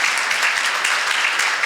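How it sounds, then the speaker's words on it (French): Applause from an audience at a live round-table discussion on influencers and culture, a dense, steady wash of many hands clapping that fills the room without a break. "On peut les applaudir s'il vous plaît."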